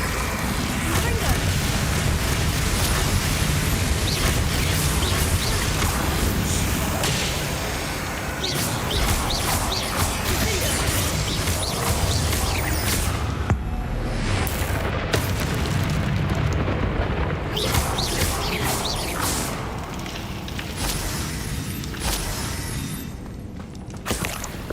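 Confringo fire-blast spells from Hogwarts Legacy burst again and again in a dense, loud barrage of booms and crackling blasts that runs without a break, with bright impact pops and game effects layered thickly on top.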